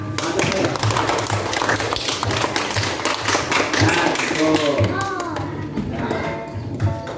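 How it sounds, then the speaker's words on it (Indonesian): A primary school class claps hands together in a steady rhythmic beat, loud and close, while voices and children singing or calling out mingle throughout. "mari tepuk tangan"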